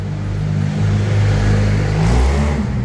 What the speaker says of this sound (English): I can hear a car or something like that behind me